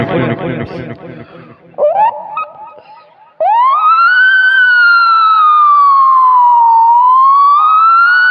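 After a few seconds of talking, a mimicry artist on stage imitates an ambulance siren with a loud, sustained, rising and falling wail.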